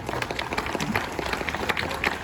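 Crowd applause at an outdoor rally for Ukraine, a dense burst of many people clapping, moderately loud and continuous through the short stretch, with some background crowd noise mixed in.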